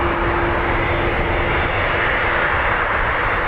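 Delta flight DL45 departing Dublin Airport for JFK, a steady loud roar of airliner engines with a faint tonal whine held throughout, no voices.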